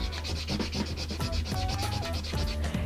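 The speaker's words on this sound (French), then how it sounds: "j'ai le stabilo pour pouvoir tout colorier" A highlighter scrapes and rubs across paper close up, a dense, scratchy scribbling that keeps going without pause.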